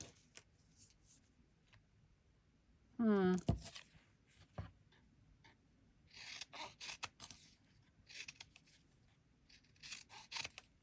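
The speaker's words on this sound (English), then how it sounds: "Shall we just try and cut a piece out?" Scissors snipping paper for a junk journal, a few quiet crisp cuts and rustles spread across the stretch, with a brief burst of speech partway through.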